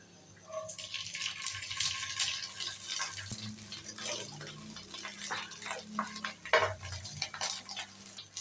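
Cold cooked rice stir-fried in ghee in a pan, with scraping and clinking of a utensil against metal over a soft sizzle, close and steady for several seconds.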